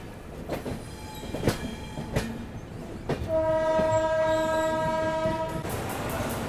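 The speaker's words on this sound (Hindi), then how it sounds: "प्लेटफॉर्म नंबर 3 से स्किप मार रही है अपनी ट्रेन धीरे धीरे बीना जंक्शन" Marathwada Sampark Kranti Express rolls slowly through Bina Junction, giving soft rhythmic wheel clacks and a few sharp rail knocks before a long, steady train horn sounds for a couple of seconds.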